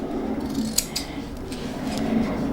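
Scissors clipping the corners of fabric pieces for a sewn coin purse, several quick close snips in a loose rhythm over a low background hum.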